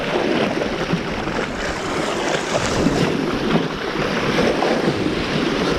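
Strong wind gusts across a rocky seashore, roaring loudly against the microphone with a broad, steady rush and washing surf underneath, no voices.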